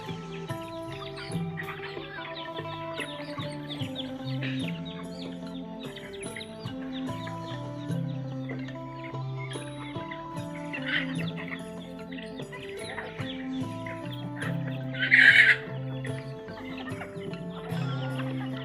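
Farmyard chickens cluck and murmur steadily throughout at moderate distance, with scattered chirps and one louder squawk near the end, no talking over them.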